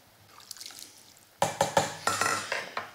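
Soup stock with orange and aniseed being stirred in a pot for a fish bouillabaisse, faint liquid sloshing followed by a series of loud close clinks and scrapes of a utensil against the pot.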